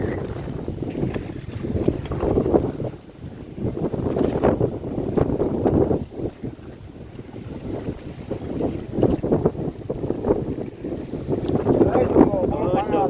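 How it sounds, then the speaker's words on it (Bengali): Strong wind and rough waves batter a fishing boat out on the water in the Sundarbans, a steady loud rush of wind noise and sloshing surf through the whole stretch. "প্রচণ্ড ঢেউ হচ্ছে আশেপাশে দেখুন, আর তেমনই হাওয়া"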